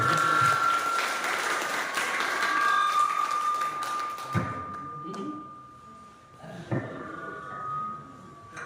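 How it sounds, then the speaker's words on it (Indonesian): Applause from an audience at a church gathering, a steady wash of clapping that fills the first few seconds and then fades, with a voice speaking over it toward the end. "Sekali lagi kita berikan aplaus dan meriah."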